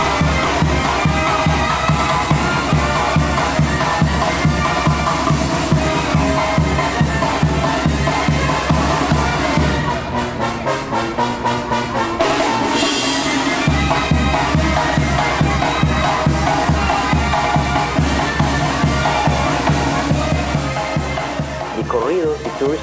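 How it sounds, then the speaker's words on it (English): Banda music from Culiacán, Sinaloa, Mexico plays loud and full, with steady pulsing brass and percussion that drops out briefly midway before the band comes back in at full strength. "In Culiacan, the capital of the Mexican state of Sinaloa, this is the sound of Banda."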